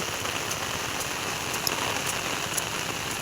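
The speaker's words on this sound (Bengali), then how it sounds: "আজকের প্রচণ্ড বৃষ্টি হচ্ছে।" Heavy rain falls on an open field in a dense, even hiss with scattered nearby drop impacts, steady and moderately quiet, with no one speaking.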